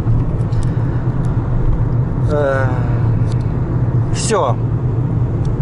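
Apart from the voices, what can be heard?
car driving home on a hot day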